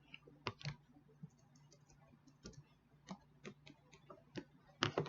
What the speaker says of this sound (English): Click on where it says division. It changes. You get the text icon. You can type in East.